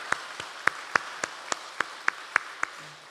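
A church congregation claps in unison during a service, about ten sharp, evenly spaced beats in a steady rhythm, fairly soft and heard without talk.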